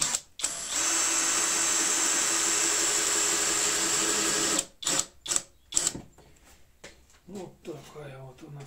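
A power screwdriver whirs steadily for several seconds driving screws into a wooden beehive, then stops, followed by a few short bursts and handling knocks up close.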